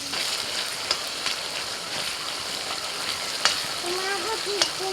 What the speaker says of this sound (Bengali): তেল খুব ভালো করে গরম করে নিয়ে পেঁয়াজ ছেড়ে দিলাম।